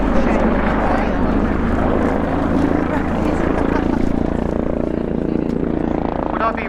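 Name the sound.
helicopter flying at RAF Cosford Air Show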